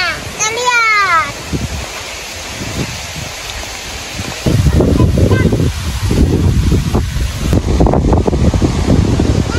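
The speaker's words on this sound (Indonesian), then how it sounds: "Angin kencang dek, ah." Strong wind sweeps across a peanut field during harvest as a storm builds, first as a softer rush and then a loud, roaring buffeting on the microphone, with a brief voice-like sound at the start.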